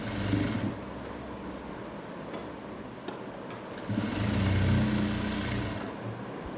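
A home sewing machine running steady stitching runs on a Baahubali-style blouse sleeve in blue and copper-coloured thread, a continuous close mechanical whirr that pauses briefly then resumes louder.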